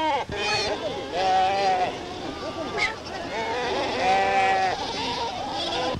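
Bleating livestock, likely sheep, in a 1934 French-Berber film, with several drawn-out wavering cries that rise and fall close by, loud over a rough, crackly background with possible voices mixed in.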